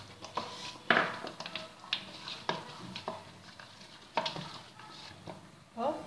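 Raw quail pieces tossed and mixed by hand in a spice marinade in a bowl, giving faint, close, wet squelching pats and occasional light clinks in an uneven rhythm, with no talking.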